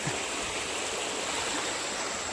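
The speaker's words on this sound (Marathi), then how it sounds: "पाण्याचा फ्लो थोडासा जास्त काय करीबन ओ ते पानी जास्त आहे" A rain-swollen freshwater stream rushes steadily at night, a broad continuous hiss of flowing water heard close and even, with no voices.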